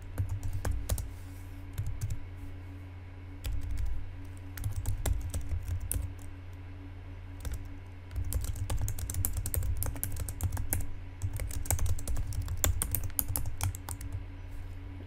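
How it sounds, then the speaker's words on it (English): Typing on a computer keyboard comes in bursts of quick, close key clicks separated by short pauses, with a low steady hum beneath and no talk. "I'm going to have to type this one in again."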